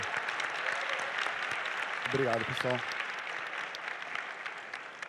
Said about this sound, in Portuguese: Salva de palmas para as equipes aí de novo.